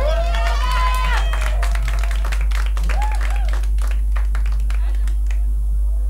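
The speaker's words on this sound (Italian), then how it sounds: "Un applauso Ilaria." Guests at a wedding reception in a restaurant applaud in a quick patter of clapping, with a voice talking early on and a strong low hum underneath throughout.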